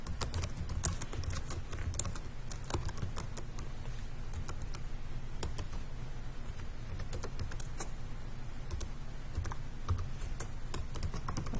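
Steady clatter of typing on a computer keyboard while writing a message body, continuous quick key taps over a low background hum throughout, with no talking.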